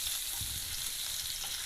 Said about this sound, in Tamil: நல்லா இதை வறுத்துக்குங்க.